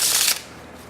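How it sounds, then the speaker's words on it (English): A Bicycle Karnival gold back deck of playing cards riffle-shuffled close up, a quick loud burst of flapping cards that stops abruptly after about a third of a second, followed by quiet. "Here's the shuffle."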